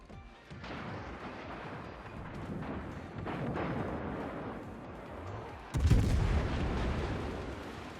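Tier X British cruiser HMS Goliath in World of Warships fires an AP salvo, heavy gun booms rolling over a low ambient rumble, with a loud, sharp blast near the end.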